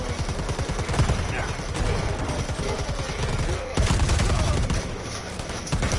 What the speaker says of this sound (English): that was him with the shoulder cannon